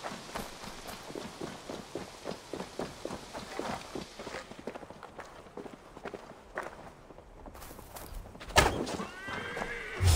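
Hooves thud in a steady gallop for several seconds, then a horse gives a sharp whinny near the end, with game-like clatter around it, in Assassin's Creed Valhalla.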